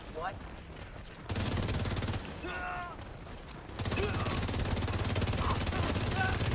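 Rapid bursts of video game gunfire aimed at veteran enemies, loud stretches of continuous shooting broken by short pauses, with a voice talking underneath.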